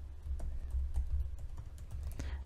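Someone types code on a computer keyboard, producing quiet, irregular key clicks in a steady run over a low hum.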